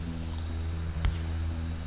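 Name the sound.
bass with chorus effect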